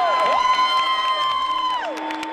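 A crowd cheers and whoops at a Sycamores basketball game in the Hulman Center, loud and continuous for a couple of seconds, with high shouts rising above the roar.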